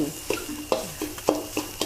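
Shrimp paste sauce stir-fried over low heat in a hot pan, a spatula scraping in irregular strokes with a soft sizzle underneath, close and moderately loud.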